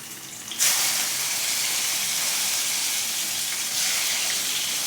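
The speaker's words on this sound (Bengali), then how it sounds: "তেলটা আমার গরম হয়ে গেছে এবারে এর ভেতরে আমি মাছগুলো দিয়ে একে একে ভেজে নেবো" Rohu fish pieces frying in hot oil, a loud steady sizzle that jumps in abruptly after a quiet start and hisses on continuously up close, no voices.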